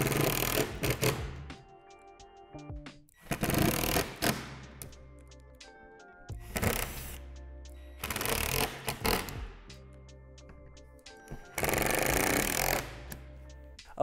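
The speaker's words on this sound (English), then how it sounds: "Secure the two gables together with the four screws in the center." A power driver sets screws into the plastic gables of a Lifetime 10 by 8 foot outdoor storage shed, heard as four or five loud whirring bursts separated by short quiet gaps, close and with no talk.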